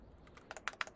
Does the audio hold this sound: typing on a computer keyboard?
yes